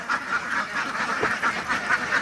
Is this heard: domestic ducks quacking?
yes